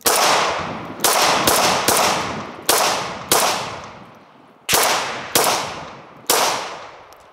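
A Ruger SR1911 9mm pistol fires eight sharp, loud shots at irregular intervals, each crack followed by a ringing decay outdoors.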